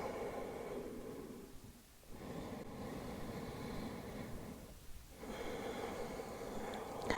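Slow, deep breaths during a hatha yoga session, two long airy breathing cycles with quiet pauses between them, soft and close against a faint background hiss.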